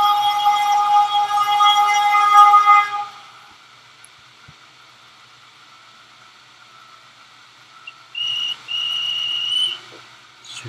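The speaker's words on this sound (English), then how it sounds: "They're blowing the whistle there." A loud, steady train whistle tone from a Roblox video game sounds for about three seconds, then quiet, followed by two shorter whistle blasts near the end.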